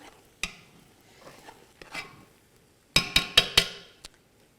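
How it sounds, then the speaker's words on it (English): Collard greens cooked with bacon being stirred in a pot, a handful of scraping spoon strokes followed by a quick burst of four or five sharp clanks against the pot rim, close and otherwise quiet. "I'm actually going to come back over to the collard greens, stir those up again"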